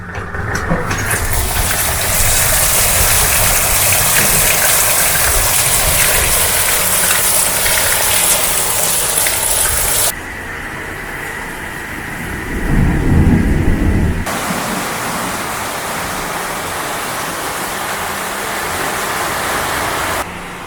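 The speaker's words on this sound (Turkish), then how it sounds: "şarıl şarıl yağmur yağdı. Yıldırımlar düştü, şimşekler çaktı" Loud, constant downpour hissing, broken midway by a deep rumble of thunder before the heavy rain noise returns.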